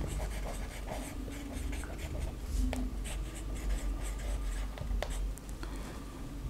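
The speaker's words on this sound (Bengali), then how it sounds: "এই তো আমি যদি আরেকটি বাক্য লিখি" Pen scratching steadily across paper while writing out an English sentence by hand in a classroom lesson, with continuous close strokes and small taps, no talking.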